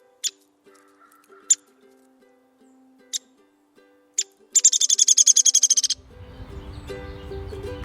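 Backyard birds chirp in short, sharp calls over soft low cooing tones, then a rapid run of chattering notes gives way to a noisy rustle at the end.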